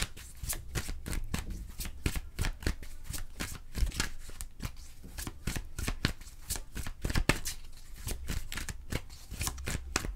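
A tarot card deck is shuffled close up in rapid, steady riffling bursts of crisp card snaps that run continuously for about ten seconds, with no talking.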